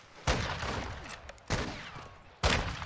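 Three loud, sharp gunshot cracks spaced about a second apart ring out in a Warzone sniper match, each followed by a short decaying tail over quiet background.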